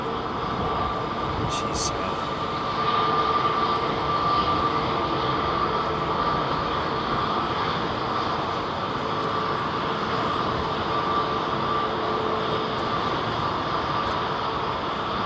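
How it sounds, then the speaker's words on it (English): An Etihad Airbus A380 taxiing at London Heathrow, a steady low jet-engine rumble with a faint whine holding evenly at moderate distance, with a brief voice early on. "Etihad 380 now appears to be moving towards us."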